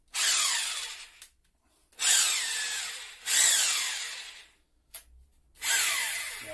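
A Nakasaki 960 W hammer drill runs in plain drill mode in four bursts of steady whine, each rising up to speed and then stopping, with short silent gaps in between. It is close and loud, and no one speaks over it.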